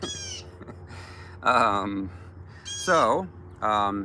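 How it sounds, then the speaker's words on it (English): A mockingbird calls just behind a person outdoors, giving several loud, separate harsh cries and chirps in a loose rhythm, close and clear. "There's a bird like right behind me. And one, it's a mockingbird."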